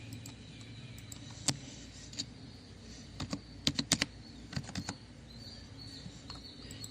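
Quiet keystrokes on a computer keyboard typing a search for Blogger, a few scattered taps and then a quick burst of clicks over a low background hiss, with no voices.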